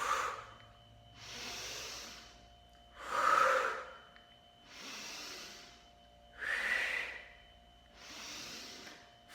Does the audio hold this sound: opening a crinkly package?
no